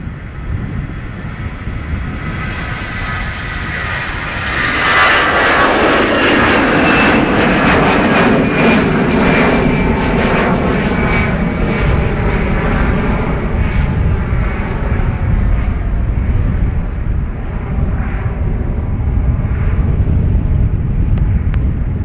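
An Aer Lingus jet bound for Rome departs Dublin Airport, its engines building from a distant roar into a loud, sustained blast that lingers as the aircraft climbs away.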